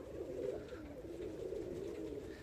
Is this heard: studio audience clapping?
no